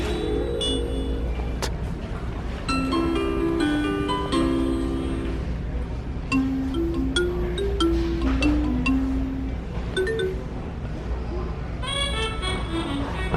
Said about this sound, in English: They have a few little things where you can hear the doorbell.